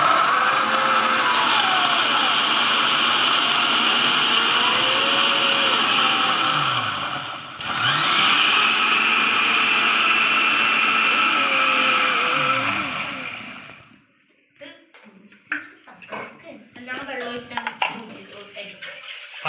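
A mixer grinder blends mango with ginger and cardamom, whirring loudly and steadily up close for about thirteen seconds before cutting off. Afterward there is quieter clatter and handling noise.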